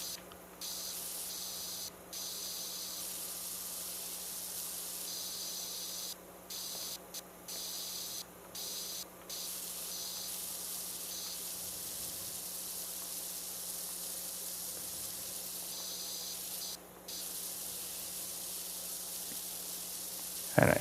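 A pressure washer in the video game PowerWash Simulator 2 sprays a ceiling with a continuous, loud hiss, broken by several short pauses where the spray stops and restarts, over a faint steady hum.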